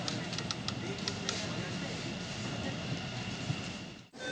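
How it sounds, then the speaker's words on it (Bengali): An underground Kolkata Metro train pulls out of Sealdah station with a steady, moderately loud rumble and rattle of wheels in the tunnel. The rumble dips sharply near the end before surging back. "শিয়ালদা থেকে ছেড়ে যাচ্ছে মেট্রো রেল।"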